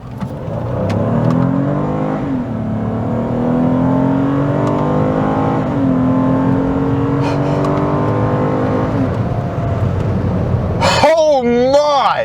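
A Toyota Blade Master's 2GR V6 engine revs hard and loud, its pitch climbing through several gear shifts, with an excited voice breaking in near the end.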